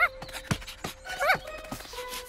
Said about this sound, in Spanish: ¡Perro en el campo!